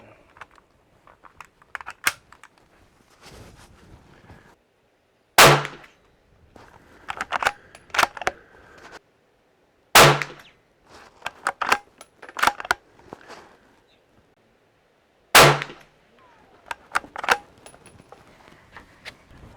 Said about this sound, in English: this is going to be my initial 3-shot group at 50 yards